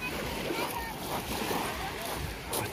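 Black Sea water splashing and washing close by on the beach at Veseloe near Novyi Svet, a continuous loud wash of surf with people talking over it.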